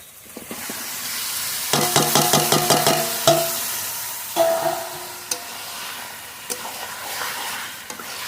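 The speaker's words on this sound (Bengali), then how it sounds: "মশলা মাখানো মাংস দিয়ে দেবো।" Country duck meat coated in spices drops into hot oil and is stirred in a pan, a close sizzle and hiss with a burst of rhythmic metallic spatula strokes, then scattered scraping taps, no talking.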